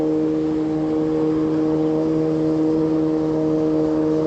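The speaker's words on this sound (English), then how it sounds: "Comes another boat. If you haven't heard it already," A motorboat engine on Lake Taneycomo drones loudly and steadily with a strong humming tone, holding close and constant throughout.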